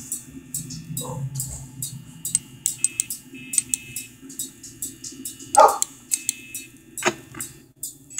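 Small dogs bark in short, sharp yaps scattered across the scene, mid-distance and moderately loud, over the steady hum and electronic tones of the FNAF Fazbear horror game.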